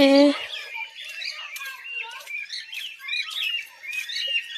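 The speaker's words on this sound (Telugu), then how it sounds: "లూటీనో కాకటైల్ చూసేయండి ఇవి కూడా బాగున్నాయి కదా" Lutino cockatiels at a zoo in Tirupati chirp continuously in quick, high-pitched bursts, with several birds calling over one another. A short voice sound is heard at the very start.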